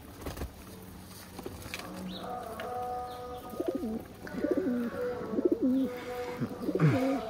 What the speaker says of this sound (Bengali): এত খাওয়া দেওয়ার সময় কবুতরগুলো গোল হয়ে খায়, দেখতেও এতটা ভালো লাগে